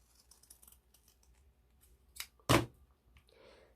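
Scissors snip through cotton face mask fabric in one sharp, close cut, preceded by a smaller snip and followed by faint handling rustle.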